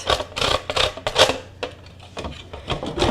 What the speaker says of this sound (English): I'm just gonna grate in 2 sticks of butter, so a cup of butter